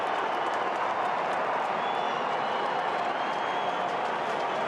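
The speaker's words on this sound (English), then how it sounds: "So it sounds a very pro-Sydney crowd." A large football stadium crowd roars and cheers after a goal at a 2014 AFL qualifying final between Sydney and Fremantle, a dense, sustained wash of noise with no pauses.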